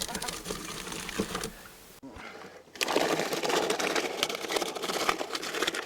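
Apple grinding machine feeding pulp into a bucket at a farm fair, a loud continuous rough churning that drops briefly near two seconds and then resumes strongly, with voices talking over it.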